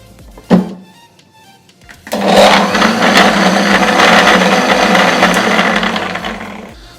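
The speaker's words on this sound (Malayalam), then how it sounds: "ഇനി നമുക്ക് മിക്സിക്ക് ഒന്ന് നന്നായിട്ട് ബ്ലെൻഡ് ചെയ്തെടുക്കാം" A mixer grinder whirs loudly and steadily for about five seconds as it blends rambutan juice with cold milk, starting abruptly after a single dull thunk.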